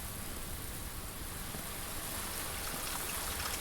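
Steady rain falls in the Blue Prince video game, a dense, even hiss of drops that holds at constant moderate loudness throughout with no talking.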